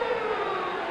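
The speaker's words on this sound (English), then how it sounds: "I don't know what that siren means." A hockey arena siren sounds during a 1971 NHL All-Star Game at Boston Garden, a loud, sustained steady wail holding one pitch for the full second, with no voices over it.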